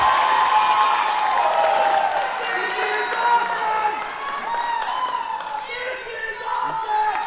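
A wrestling crowd at an independent show cheers and applauds, a sustained roar of voices with high shouts and chanting and a bed of clapping, loud and continuous across the whole stretch.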